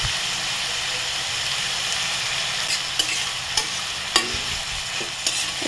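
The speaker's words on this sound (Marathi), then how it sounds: "आता 5-6 मिनिटं आपण कांदा चांगला बारीक गॅसवरती शिजवून घेऊ" Chopped onion and tomato with salt frying and being stirred in a pan on a gas stove for pav bhaji, a steady close sizzle broken by a few sharp scraping clicks of the spoon.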